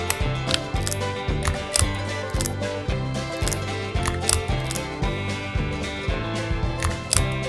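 Lego gears and plastic parts being fitted together during a build, giving a dense run of quick, close plastic clicks, snaps and rattles with a repeating rhythm over about seven seconds and no voices.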